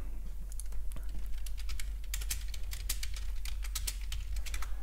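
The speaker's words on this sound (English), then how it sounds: "You do hear typing" Rapid clicking of keys on a computer keyboard at a day-trading desk, an irregular close patter of keystrokes over a low steady electrical hum, with no voices.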